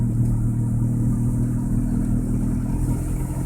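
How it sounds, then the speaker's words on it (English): A car's exhaust fitted with a new stainless Magnaflow muffler idles with a low, steady, fairly quiet rumble at a rainy conservation area, with no talking. "Hear that Magnaflow muffler that's on my car."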